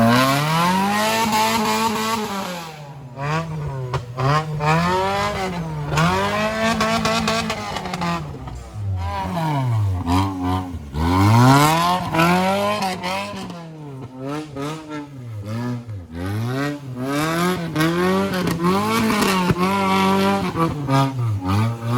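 A Maruti Suzuki Gypsy 4x4 engine is started and warmed up before off-roading. Loud and close, it revs again and again with the pitch swooping up and back down, and no one speaks.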